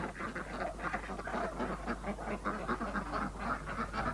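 A group of ducks quacks continuously in a busy, overlapping chatter, fairly close and steady throughout, with no talking.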